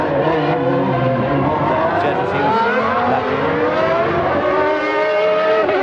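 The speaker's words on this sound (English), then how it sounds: "Then hard on the brakes into the chicane, down to 2nd." A 1992 Formula One car at the Japanese Grand Prix braking hard into a chicane and dropping to second gear, loud high-revving engine whine stepping down in pitch through the downshifts.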